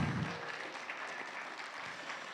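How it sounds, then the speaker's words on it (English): An audience at a community talent show claps in a short, fairly faint burst of applause, steady and diffuse throughout. "One more round of applause."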